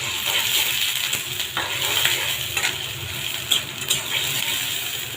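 Chopped onions stirred in mustard oil in a pan make a close scraping, crackling fry with irregular clinks and knocks of the spatula against the metal. The clatter is moderately loud and comes with no talking.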